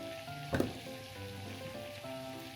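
Water bubbling and sizzling steadily in a pan as chestnuts boil, with a brief louder splash or clatter near the start, no voices.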